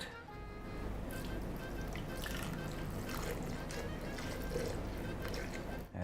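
Milk pours steadily into a blender jug for a chocolate ice cream milkshake, making a continuous close, rushing liquid stream that lasts almost the whole stretch before tapering off at the end.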